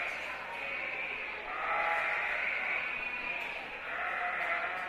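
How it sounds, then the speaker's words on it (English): Yearling ewes bleat in a show ring at a county fair lamb and sheep show. The bleating is faint and drawn out over a constant indoor crowd murmur. "Three yearling ewes out here, but I think they're all good productive sheep."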